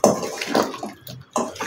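Water splashes and pours from a small tea glass onto mutton pieces in a pressure cooker, in two short bursts separated by a quiet gap.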